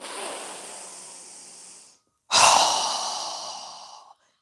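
Two strong breaths during a yoga session: a long audible exhale, a short silence, then another forceful breath through the nose, close and breathy with no talking.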